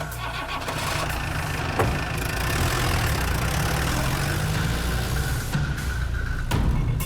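A scooter engine starts up and settles into a loud, steady idle close by, with a rough continuous rumble.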